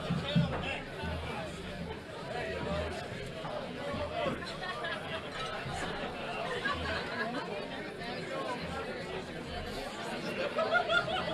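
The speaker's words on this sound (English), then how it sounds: "That's got the crowd excited." A pool hall crowd at a 2020 New York 9-ball match bursts into lively chatter and scattered laughter after a lucky shot, a busy murmur of many voices that swells again near the end.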